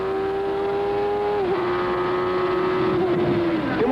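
A 1993 IndyCar racer at the Mid-Ohio Grand Prix accelerates with a loud, high, steady engine whine, dipping briefly at two gear shifts before climbing again.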